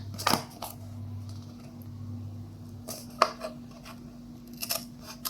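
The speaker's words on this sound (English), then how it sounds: "now cut this last part from the single sheet" Scissors snip through a single sheet of paper for a small paper cup, a few sharp, close cuts spaced apart over a faint low hum, with no talking.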